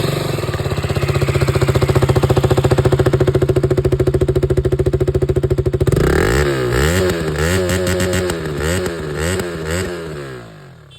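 A KTM Duke motorcycle engine runs at a fast, steady idle for about six seconds, then is revved repeatedly in rising and falling surges, loud and close, with no talking.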